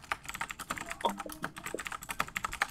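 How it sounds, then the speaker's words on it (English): Rapid, steady typing on a computer keyboard, close and clear, with dense runs of key clicks and no talking. "There's gonna be a lot of typing in."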